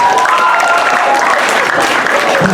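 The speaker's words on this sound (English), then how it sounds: "Give them a round of applause, everybody." Crowd at a comedy hypnosis show breaks into loud, sustained applause, a dense wash of clapping with faint voices and cheers mixed in.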